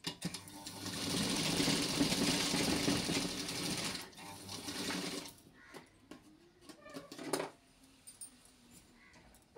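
A sewing machine stitching a pattu langa jacket runs in a fast, steady whirring burst for about four seconds, then stops, leaving quiet handling clicks and rustles of fabric.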